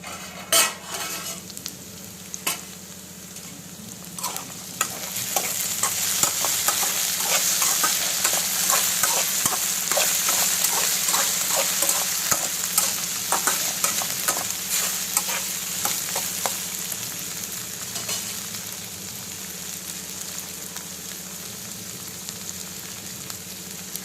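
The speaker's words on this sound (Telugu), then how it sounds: "మంచిగా వేగనివ్వాలి." Chopped okra (bendakaya) frying over a low flame in a pan, with a steady sizzle and frequent scraping, clattering stirs that grow busier partway through. No voices are heard.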